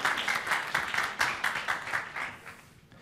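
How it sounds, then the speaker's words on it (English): A small conference audience claps in quick, steady bursts that taper off toward the end. "A round of applause."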